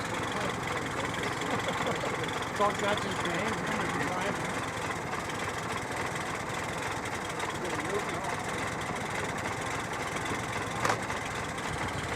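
An antique brass-era car engine runs at a car show, a steady mid-level rumble with faint knocking, heard somewhat distant beneath crowd ambience and occasional speech.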